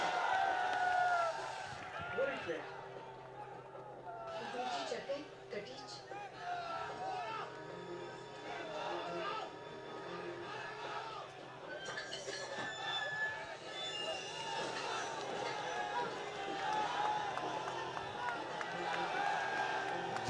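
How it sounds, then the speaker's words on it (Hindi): A large crowd at an outdoor political rally on a cold day gives sustained applause and cheering, a dense continuous wash of clapping and voices lasting throughout. "चंद्रशेखर जी भाई साहब के सम्मान में दोनों हाथों की जोरदार तालियां।"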